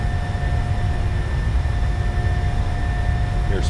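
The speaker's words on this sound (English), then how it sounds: "Toga. Slight nose down pressure. Takeoff power is set." PMDG 737-700 jet engines at takeoff power in Microsoft Flight Simulator, on a flight out of Anchorage: a loud, steady roar with deep rumble and a thin whine, holding constant throughout with no voices.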